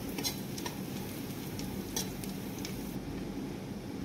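Two or three dried red chillies and finely chopped tomato fry in a pot for dal khichdi, a soft, fairly faint hiss with scattered light stirring ticks.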